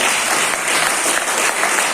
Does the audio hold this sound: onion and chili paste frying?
no